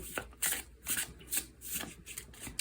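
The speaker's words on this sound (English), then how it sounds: "Let's pull like a few more, maybe one more, two more oracle cards for you guys" Oracle cards being shuffled and pulled from a deck, giving a run of soft, close papery riffles and slides in an uneven rhythm, each stroke brief and crisp against a quiet background.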